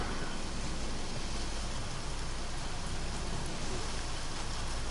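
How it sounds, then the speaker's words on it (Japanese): Heavy rain pours steadily in a shooting video game, a dense, unbroken hiss of drops on surfaces that stays loud and even throughout, with no voices heard. "雨降ってきたよー"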